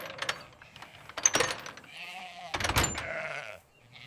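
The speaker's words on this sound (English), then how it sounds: "Sheep start to return to the enclosure." Sheep bleat as they return to an enclosure, several overlapping calls near and fairly loud, with a mechanical clatter and faint talk mixed in.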